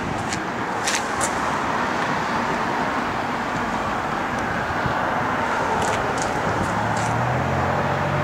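A 1970 Ford Mustang Mach 1 V8 idles steadily at close range, a continuous low engine rumble with broadband noise running the full length and no talk.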